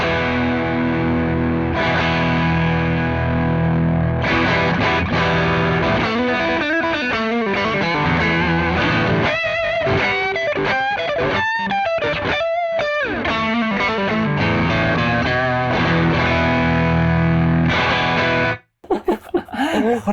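A heavily distorted electric guitar plays loud, sustained chords and riffs continuously, with a brief break near the end.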